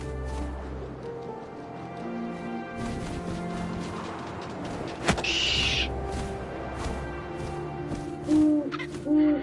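Owl hooting heard within a busy game soundscape, a few mid-pitched hoots over a steady background bed with scattered clicks, rustles and a sharp crash near the middle.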